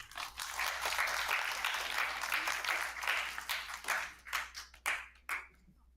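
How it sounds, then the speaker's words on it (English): Audience applause at an evening Jain faith prayer gathering, steady dense clapping from many hands for about four seconds that then thins into scattered separate claps before stopping. "A round of applause for them."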